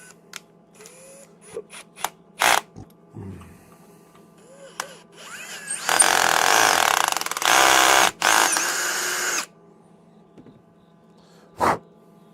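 Drill boring a hole a 64th of an inch larger while building digital bird meters: a loud whirring burst of about two seconds amid scattered clicks and handling taps, then quieter bench sounds.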